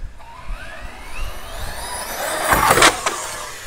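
An Outcast 6S RC car screams up in pitch as it revs and launches off a skate park ramp, a rising electric whine that peaks in a loud, rough burst near the end, alone without voices.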